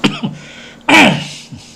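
Several short, harsh coughs close to the microphone, one louder burst in the middle, with brief throat-clearing sounds around it.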